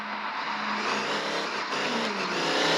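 Engine roar of a car racing in a video game, a steady high-pitched drone with tonal whine, played loud and continuous with no voices over it.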